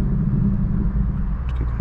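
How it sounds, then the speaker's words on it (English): A 2020 Ford Mustang Bullitt in normal mode idles with a steady, deep exhaust rumble, close and fairly loud, with a faint higher click near the end. "you can hear a little bit more grumble in that"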